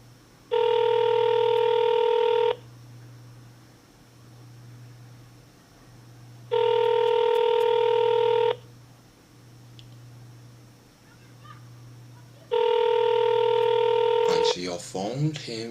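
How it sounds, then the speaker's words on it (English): An outgoing call rings back on an old telephone line: three evenly spaced two-second ring tones separated by pauses over a low steady hum, followed by a brief click as the line picks up. "It's ringing."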